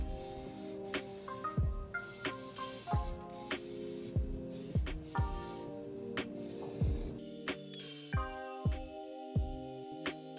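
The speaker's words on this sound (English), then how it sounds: "I switched off between spraying inside the spokes and spraying the lip and face of the wheels" Spray can of Plasti Dip coating BMW wheels in burnt bronze: repeated short hissing bursts of spray, near and fairly loud, with a steady tonal background running underneath.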